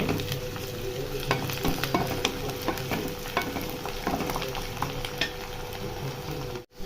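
Ginger garlic paste, half a tablespoon, sizzles and fries steadily in a hot pan while being stirred, with scattered scraping clicks of a spoon across a continuous close crackle; cooking a hotel-style cauliflower fry.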